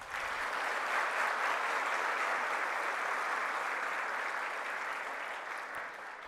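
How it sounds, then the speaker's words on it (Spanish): A large audience applauds at a university degree incorporation ceremony, a full, steady patter of many hands that holds evenly and then begins to taper near the end. "Un aplauso, por favor."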